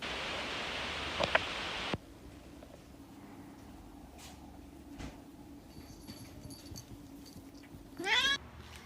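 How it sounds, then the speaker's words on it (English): A pet cat meowing near the microphone: after a burst of noise and quiet rustling, one rising, drawn-out meow sounds clearly near the end. "Haven't seen my cat in a month and she does this"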